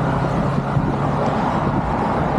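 Weekday morning commuter cars stream along a road in Surrey, Vancouver, a loud, continuous rumble of nearby traffic with a low engine hum and no voices.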